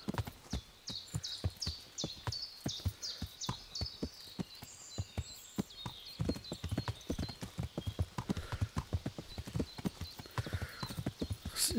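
Steady clip-clop of a horse's hooves walking over rough ground in the medieval game Kingdom Come: Deliverance, a continuous even rhythm of close, sharp hoofbeats with no talking.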